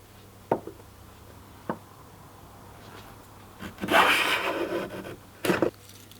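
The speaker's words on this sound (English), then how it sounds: "enjoy making some wood shavings" A freshly sharpened woodworking tool shaves curls from wood: a couple of sharp knocks, then a longer rasping slice with crackly shavings, and a final short scrape, all close and clear.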